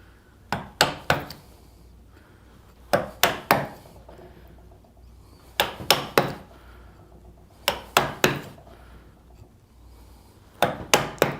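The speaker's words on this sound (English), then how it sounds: "we're going to come back again and chip these out or split them away" A chisel struck with a mallet chips dovetail waste out of wood, sharp close knocks landing in quick bursts of two or three, separated by pauses in an otherwise quiet room.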